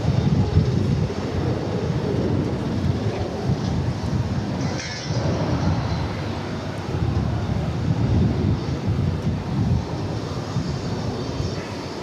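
A charter airliner arriving from Lincoln roars at DFW Airport, a broad steady rumble of jet engines with wind buffeting the microphone, continuous throughout and without speech.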